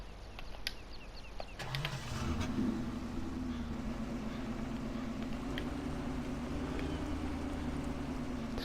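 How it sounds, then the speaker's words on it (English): A car engine from a video game vehicle mod starts after a quiet moment with a brief rise, then settles into a steady, low, even drone that carries on alone at moderate volume. "It's got a good engine note."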